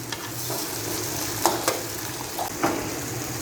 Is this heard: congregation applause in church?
no